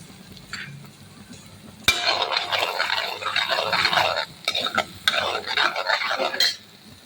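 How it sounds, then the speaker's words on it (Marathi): A spoon stirs and sautés green chutney with turmeric and garam masala in oil in a pan, giving a scraping, sizzling sound in uneven bursts that starts with a sharp clink after a quiet opening. "पाव चमचा हळद, पाव चमचा गरम मसाला घालून आपण चटणी चांगली तेल सुटेपर्यंत परतवून घेऊ"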